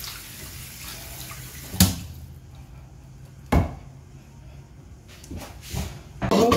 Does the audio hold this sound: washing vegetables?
yes